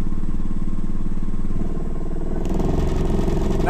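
A small bench-mounted lathe runs at low revs, its motor droning steadily with a coarse rattling vibration, then the tone shifts and grows harsher and brighter partway through, loud and close throughout.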